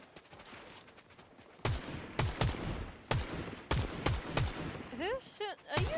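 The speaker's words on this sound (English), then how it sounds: "it sounds like they're shooting on the right too" Video game gunfire, a series of sharp, loud shots in uneven bursts after a quieter start, with a few shots sounding more distant, no talk over them.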